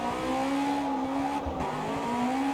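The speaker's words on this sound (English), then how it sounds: "It sounds fantastic from the outside though. With the Honda engine." A Honda-engined time attack car in a racing video game screams past at high revs, a loud sustained engine whine with tire noise that rises and dips slightly over a few seconds.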